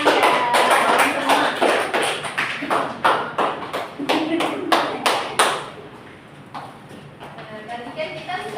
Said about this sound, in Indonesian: Terima kasih untuk kelompok dari tepuk tangan ya.